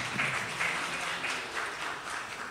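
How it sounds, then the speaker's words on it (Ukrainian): A modest round of audience applause at a museum seminar, soft and fairly distant, with a steady wash of clapping lasting a couple of seconds. "Аплодуємо."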